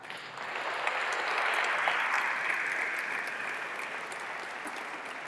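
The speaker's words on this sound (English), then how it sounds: "Let's have a round of applause for them." Audience at a web technology conference applauding a team, clapping swelling quickly to a full steady level then easing slightly, alone with no talk.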